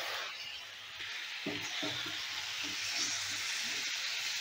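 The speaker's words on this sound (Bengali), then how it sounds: "একটু ঢাকা দিয়ে ভাজবো, তাহলে ভাজাও হয়ে যাবে আর বেশ খানিকটা সেদ্ধও হয়ে যাবে" Mung dal frying in a covered pan, sizzling with a steady broadband hiss, with a few soft knocks from stirring underneath.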